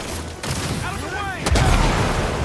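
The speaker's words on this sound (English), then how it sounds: "these freaking guns!" Rapid bursts of gunfire ring out in the Spider-Man 2 video game: loud cracks with ringing, whistling tails, then a heavier blast about halfway through. The gunfire is close and dense.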